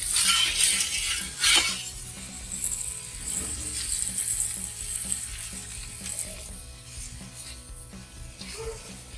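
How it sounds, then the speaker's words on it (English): A thick steak sizzles and crackles steadily over a wood-fired grill, a constant hiss up close with occasional clicks and clinks of tools throughout. "Alright, so our steak is seared on both sides."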